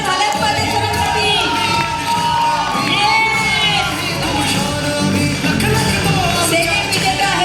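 An audience at a company annual day celebration claps and cheers loudly for an honoured guest, a dense roar of shouts, whoops and applause that rises and falls in waves, with voices mixed in.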